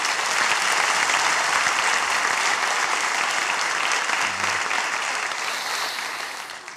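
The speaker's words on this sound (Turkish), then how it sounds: "Yani alkışlıyoruz hocam, arkadaşlarımızı." An audience applauds performers at a school show, the clapping dense, steady and loud throughout before easing slightly toward the end.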